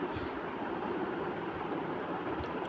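A train pulling into a station rumbles steadily nearby, a low continuous roar with a faint metallic hiss, no voices, holding level throughout.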